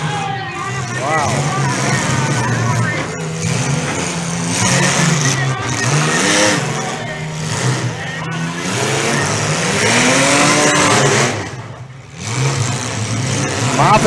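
Demolition derby cars rev and race around an arena, engines roaring and rising in pitch up close, while an announcer talks loudly over the steady motor noise.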